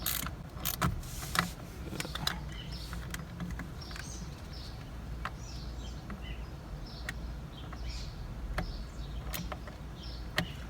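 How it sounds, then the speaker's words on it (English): A Torx T20 bit fitted on a wrench turns a screw on an SRT car part during a paddle shifter install, giving a steady run of small, close mechanical clicks and creaks at an irregular pace, with no talking. "It's called a T20. You can put them on a screwdriver. I'm putting mine on a wrench just because it's easier."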